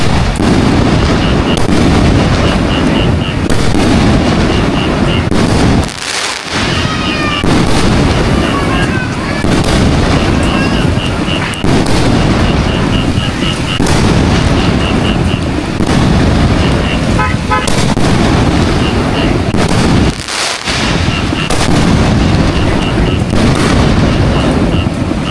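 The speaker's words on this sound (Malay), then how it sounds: "main mercun dekat dalam hujan weh" Firecrackers going off outdoors in the rain during Hari Raya celebrations, a loud, dense run of sharp cracks and pops with short gaps, mixed with whistling and people talking nearby.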